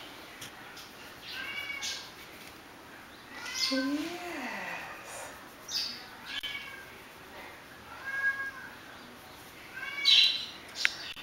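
A pet cat meows several times indoors, short rising and falling calls spaced a couple of seconds apart, fairly quiet, with someone speaking softly between them.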